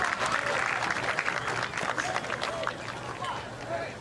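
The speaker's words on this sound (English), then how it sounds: "So a round of applause for Vergara." A baseball crowd at the Little League World Series final applauds a player stepping up to bat, a steady, dense wash of clapping and crowd noise that holds for several seconds with a commentator's voice running underneath.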